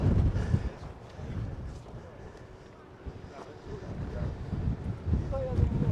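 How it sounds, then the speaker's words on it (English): Gusty wind at the Hoover Dam buffets the microphone in loud rushing bursts that ebb and swell, with voices faintly under the noise. "So don't bring hats here, it's windy."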